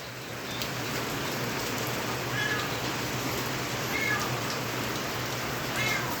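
A few short meows from two cats, scattered and fairly faint, over a constant soft hiss of night rain.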